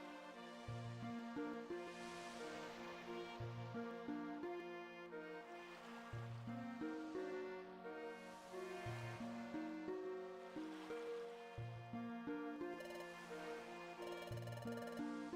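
Ocean waves rolling onto a beach in the Pokemon Mystery Dungeon: Explorers of Sky video game, heard as slow, repeating soft swells under steady, melodic background music.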